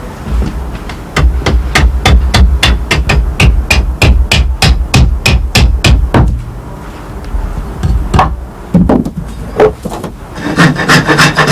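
An adze chops along the side of a wooden bow piece resting on a chopping block, a rapid regular series of sharp woody strikes that slows into scattered scraping knocks.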